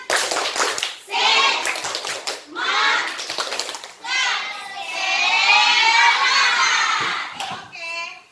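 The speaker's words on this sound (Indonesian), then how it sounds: "Tepuk semangat sekali lagi." A classroom of children performs the rhythmic 'tepuk semangat' clapping chant, bursts of patterned hand claps mixed with loud shouted chanting and cheering.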